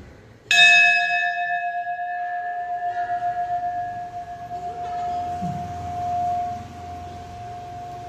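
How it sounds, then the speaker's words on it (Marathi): A large bell at a Mahadev (Kashi Vishwanath) temple in Panvel is struck once, loud and close, its deep tone ringing out and slowly fading with a wavering hum over several seconds. "इथेही एक मोठी घंटा"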